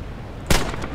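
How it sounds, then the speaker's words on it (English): A single sharp burst of gunfire in the World War II video game Red Orchestra 2, where an MG42 machine gun is firing, loud and abrupt over steady background game noise. "There's an MG42 fucking pinging at me."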